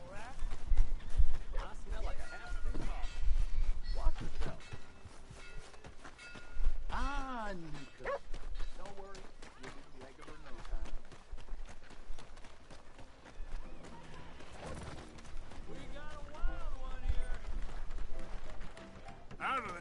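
A horse gallops in Red Dead Redemption 2, its clip-clopping hoofbeats rising and fading in bursts with occasional whinnies, while voices talk in between.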